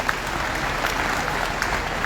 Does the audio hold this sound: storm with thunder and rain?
no